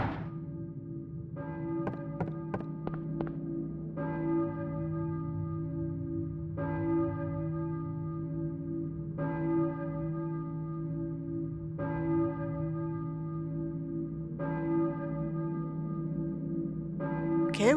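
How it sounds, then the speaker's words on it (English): A church-style bell tolls in Silent Hill (1999), striking at a slow, even pace over a steady low drone, each ring hanging and fading before the next, with a few quicker strikes early on. "Who was ringing the bell?"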